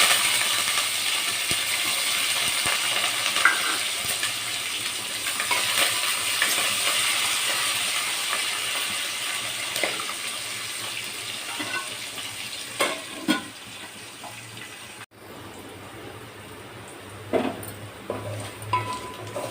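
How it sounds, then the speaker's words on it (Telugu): Onions sizzling in a pan for raw mango rasam, a steady close frying hiss with occasional stirring clicks and scrapes of a utensil, continuing for about twenty seconds without talk. "ఉల్లిపాయ అయితే వేగిపోయింది"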